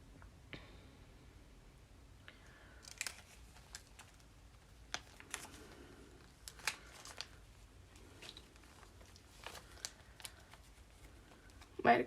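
Scissors snip rickrack trim for a journal, a series of soft, sharp clicks at an irregular pace, quiet and close, with a louder rustle at the end.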